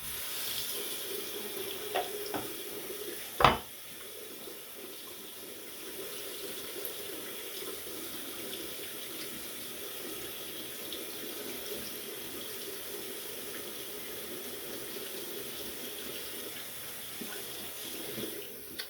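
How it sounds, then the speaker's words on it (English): Water running steadily from a bathroom tap while someone rinses off after a shave, a continuous soft rush with a single brief clatter near the start and no voices. "I'm going to rinse off and I'll be back with the post"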